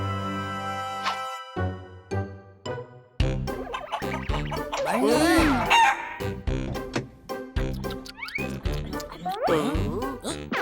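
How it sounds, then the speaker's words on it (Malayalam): A rooster crows loudly and clucks in repeated, close calls mixed with other animated sound effects in a children's cartoon, with no clear speech. "ഇത് പൂവനാ"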